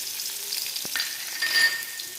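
Grated ginger and garlic fry in a little oil in a hot pan, giving a steady close sizzle. A brief scrape or stir is heard, with no talking.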